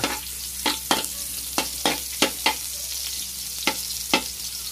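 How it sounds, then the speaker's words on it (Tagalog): Garlic, onion and ginger sauté in a pan, a quiet steady sizzle broken by about ten sharp spatula clacks and scrapes at irregular intervals, with no one speaking. "siyempre magigisa muna tayo ng bawang sibuyas at luya"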